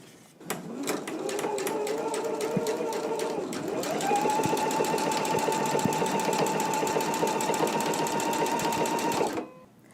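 A sewing machine runs in a steady, continuous burst for nearly the whole stretch, its rapid needle clatter shifting pitch once as it speeds up while stitching rows of seams on a sewing project.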